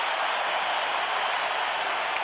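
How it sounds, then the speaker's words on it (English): A packed stadium crowd at a 1991 World Series game between the Braves and Twins roars and applauds in a dense, sustained wash of cheering that holds steady throughout. "the crowd seems to get more excited with each replay"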